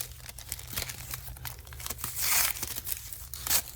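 Protective film peeled off a thin aluminum sheet, giving a close, continuous crackling and tearing with crinkly bursts that swell and fade over several seconds.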